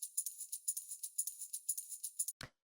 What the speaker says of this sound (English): So it's just like a simple tambourine loop.